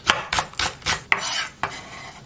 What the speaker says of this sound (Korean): 송송 썰어 넣겠습니다.